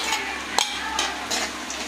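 Loud continuous sizzle of small onions and garlic frying in a pan, broken by a sharp clank and repeated stirring scrapes.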